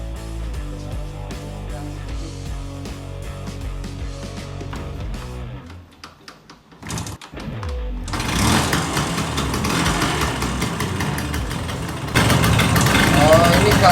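An old Vespa Excel scooter engine runs with a steady, humming idle, drops out briefly with a few sputters, then catches again and runs louder and rougher until the end.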